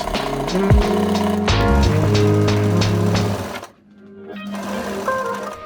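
A sewing machine stitches a vintage summer dress together in loud, rapid mechanical bursts with a rattling whir, pausing briefly before resuming, close up with no talk.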